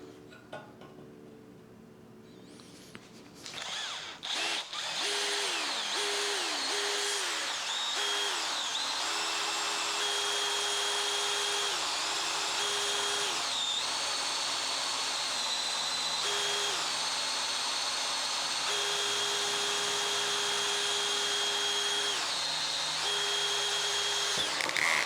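A power drill drills into metal inside a car engine bay, its motor whining steadily and loudly for over twenty seconds with repeated brief dips and surges in pitch as the bit bites, after a quieter start.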